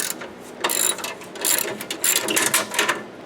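A ratchet wrench backs out 10mm bolts from the gas tank of a John Deere 130 lawn tractor, giving a series of close, quick metallic clicking bursts in an uneven rhythm.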